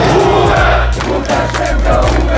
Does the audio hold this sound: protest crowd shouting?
yes